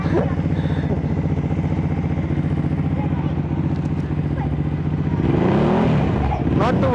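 A Hyosung GV650 motorcycle fitted with a custom barrel exhaust idles loudly and close by, with a steady low rumble throughout and a rising rev near the end, while people talk over it.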